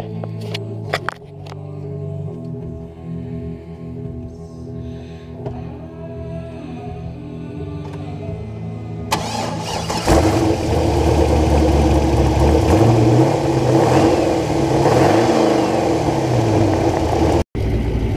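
An LSX twin-turbo V8 swapped into a Honda S2000 cranks and starts, then idles roughly before rising into loud, sustained revving that swells and falls, close and dominant with no talking.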